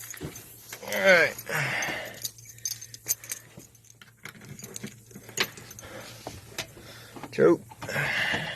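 Keys jingle close by in a short burst while someone talks, ahead of starting a ratty 1955 car that has just had a fresh radiator and fan belt fitted.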